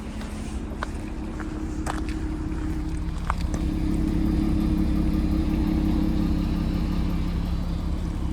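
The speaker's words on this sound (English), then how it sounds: "the car is idling, and it's quite quiet with this new exhaust upgrade." A Porsche Cayenne 957 with an upgraded exhaust idles steadily and fairly quietly, a low even hum that grows slightly fuller partway through, with a few light clicks and knocks nearby.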